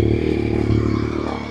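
A Yamaha Tracer 9 motorcycle engine idles loud and close, its exhaust pulsing in a steady, throbbing rhythm.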